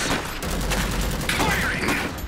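Dense gunfire crackles nonstop in the strategy game Iron Harvest, a loud volley of overlapping shots and battlefield clatter.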